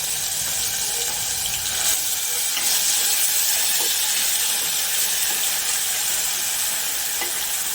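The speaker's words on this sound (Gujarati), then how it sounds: "હવે આપણે જે ગ્રેવી કરી છે ને ટામેટા અને ચવાણાની એ નાખીશું." Loud continuous sizzling and bubbling as tomato and chavanu gravy goes into a hot pan for a Kathiyavadi dana ringan shaak, steady hissing with faint stirring clicks and no voices.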